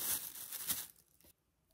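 A plastic bag crinkles and rustles loudly and close up as three or four chicken thighs go in for karaage, the crackling busy for about a second before trailing off into quiet.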